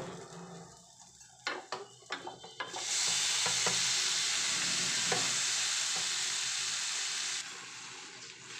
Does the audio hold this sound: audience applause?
no